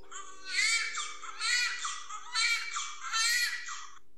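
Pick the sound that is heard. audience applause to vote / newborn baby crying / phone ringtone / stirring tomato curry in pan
newborn baby crying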